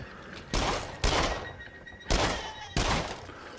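Gunfire in the VR shooter game Rush of Blood, four loud, sharp shots spaced about half a second to a second apart, each with a short ringing tail over a steady background.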